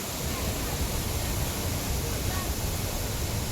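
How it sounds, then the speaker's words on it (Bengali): A mountain waterfall along the Hampta Pass trek pours in a steady, broadband rush that holds at an even level throughout, continuous and fairly close. "ঝর্ণার আওয়াজটা শুনুন শুধু"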